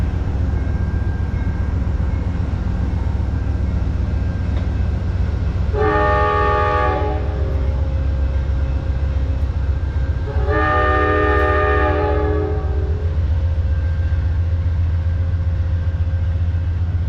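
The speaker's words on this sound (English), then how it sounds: "there goes our train." A train rumbles steadily past near Newton while its horn sounds twice, two loud sustained blasts a few seconds apart over the continuous rolling noise of the cars.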